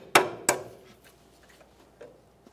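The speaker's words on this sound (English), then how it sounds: "slide it through, peen it over so there's no way this nut can loosen up on its own" A new cotter pin is peened over on an upper ball joint nut of a 2004-2015 Nissan Titan. Two sharp, close metallic strikes land in quick succession, followed by a few faint ticks.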